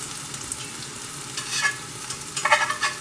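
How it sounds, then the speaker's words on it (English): Light sizzling in a hot pan, soft crackles that swell into brighter bursts near the end, with no voices. "make sure your oil is hot and there's sizzle when it goes"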